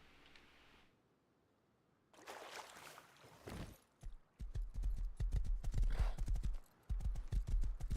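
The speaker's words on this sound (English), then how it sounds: "Let's go see these beautiful horses again." Horse hooves clip-clop in the video game Rust Console, first a brief quiet stretch, then a burst of noise, then a fast, steady run of loud, close hoofbeats with a short break near the end.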